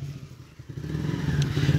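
A motorcycle that stalls when the throttle is opened idles close by with a low, uneven engine rumble and some clattering, growing a little louder toward the end.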